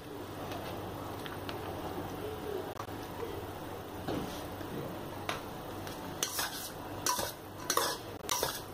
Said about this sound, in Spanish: Mezclamos